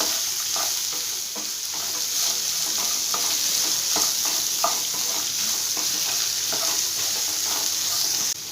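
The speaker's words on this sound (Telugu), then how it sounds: "చిన్న ముక్క అల్లం తురుముకొని వేసుకోండి. ఇది కూడా ఫ్రై చేసుకోవాలండి" Grated ginger fries in a pan while semiya upma is being made, a steady close sizzle running throughout with faint stirring clicks and scrapes scattered over it.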